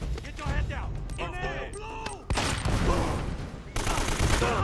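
Enemy shotgun fire in the video game Uncharted: Drake's Fortune: loud, close gunshot blasts that burst repeatedly through a constant din of combat noise, with voices talking over the gunfire.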